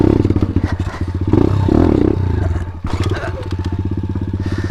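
A Grom pit bike engine revs hard during a wheelie, a loud, close, rapidly pulsing exhaust that surges, briefly drops and then climbs again.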